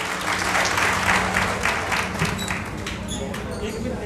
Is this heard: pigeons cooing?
no